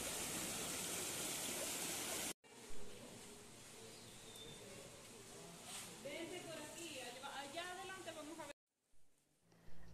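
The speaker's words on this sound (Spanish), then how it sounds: "Todos y absolutamente todos los ríos que quedan al lado de la cueva del Guácharo vienen de adentro de la cueva del Guácharo." River water flows out of the Cueva del Guácharo cave in Venezuela, heard first as a loud, steady rush that then drops to a softer wash with talk over it, ending in a brief gap.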